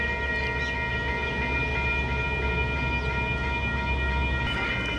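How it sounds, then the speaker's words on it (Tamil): A train rolls past near a village in Sydney, a steady continuous rumble of wheels and cars with a faint whistle-like tone riding over it, loud and unbroken throughout. "நான் வந்த ட்ரெயின் வலிக்கிற போகுது."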